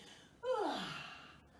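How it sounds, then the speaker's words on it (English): A person yawns once during a children's yoga mermaid stretch, a single drawn-out, falling vocal breath that starts abruptly and slowly fades, close and fairly clear. "have a big mermaid stretch and a yawn, like a mermaid yawning"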